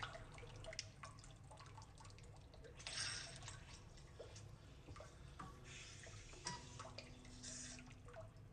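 A Japanese toilet bidet sprays water in a faint, steady hiss with drips and splashes, heard close up in a quiet restroom.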